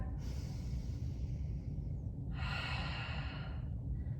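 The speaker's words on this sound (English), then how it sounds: "Get ready for your last full breath" A deep, full breath taken during a yoga session: a long airy inhale followed by a stronger, breathier exhale, close and steady against a low background rumble, with no talking.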